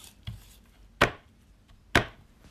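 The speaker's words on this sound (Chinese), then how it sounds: "先切几根羊排，一顿吃不了这么多" A knife chops through black goat ribs on a cutting board, three sharp, separate thuds spaced about a second apart, close and clear with no talking.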